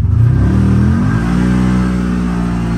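A loaded CFMOTO off-road vehicle's engine revs hard in low gear, a loud, close, steady roar whose pitch holds and then climbs slightly as it pulls under the weight, with no talking.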